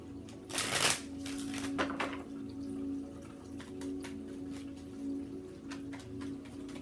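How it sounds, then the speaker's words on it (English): Tarot cards shuffled and drawn by hand, with a burst of riffling near the start and softer card slides and flicks after it, close and fairly quiet over a low steady hum. "So I'm going to take out a card for each card presented here."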